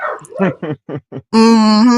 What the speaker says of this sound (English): That's my neighbor's dog on the other side.